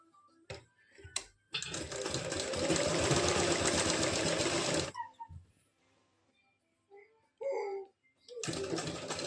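A domestic sewing machine stitches the leg seam of palazzo pants in a long steady whirring burst, stops, then starts again with shorter runs, close by amid small handling noises.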